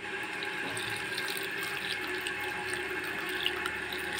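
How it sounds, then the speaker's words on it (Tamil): Steady stream of tap water pouring into a pot of cut jackfruit pieces with a little turmeric, a continuous splashing rush for cooking a Chettinad jackfruit sothi. "இது மூழ்கிற அளவுக்கு தண்ணி ஊற்றிக்கலாம்"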